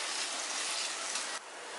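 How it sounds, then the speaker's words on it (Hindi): Grated paneer with ginger paste fries on high heat, giving a loud, steady sizzle as it is stirred and mixed, with a brief scrape partway through. "तेज आंच पे इसे अच्छे से चला के मिक्स करेंगे।"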